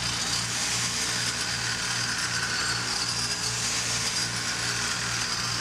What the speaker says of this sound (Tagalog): Ayan, butas barena.